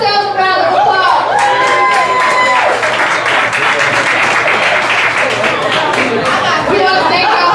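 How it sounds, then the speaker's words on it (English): An audience at a Dallas awards ceremony claps loudly and continuously, mixed with cheering and a layer of crowd chatter, the applause close and dense throughout, with some voices calling out over it. "Let's give yourselves a round of applause."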